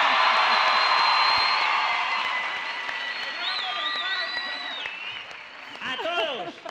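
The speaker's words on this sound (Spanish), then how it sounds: "¡Aplausos por Claudia!" A television studio audience applauds and cheers for a contest participant, loud broadband clapping that fades as a voice rises over it with excited, sing-song calls near the end.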